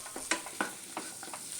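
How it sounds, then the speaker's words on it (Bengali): Boiled cauliflower being pressed and mashed with a metal spatula in a pan, a series of soft, close scrapes and dull thuds at an uneven rhythm, faint and alone. "খুব ভালো করে খুন্তি দিয়ে চেপে চেপে কপিটা আমি একদম"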